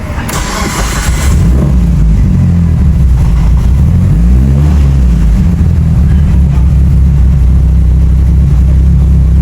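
Mitsubishi Evo 8 with a PTE62 turbo cranks briefly and fires, then settles into a loud, deep, lumpy idle with a brief rev, recorded close up and continuous to the end.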